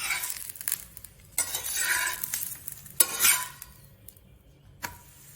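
A chapati made from palmyra tuber flour cooks on a pan over low heat, with intermittent scrapes and clinks of a utensil against the pan over a soft sizzle, and no one speaking.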